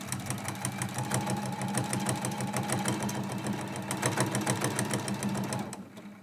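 A sewing machine stitches quilt binding in a steady, rapid mechanical chatter, close and continuous for several seconds before stopping abruptly.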